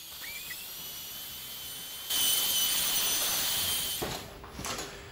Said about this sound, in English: I'll just do a little sanding just on those joints.